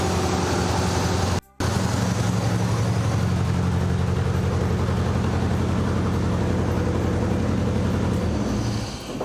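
A car engine, recently fitted with a new crank angle sensor, runs close and loud with a steady, throbbing exhaust drone, cutting out briefly near the start before resuming evenly.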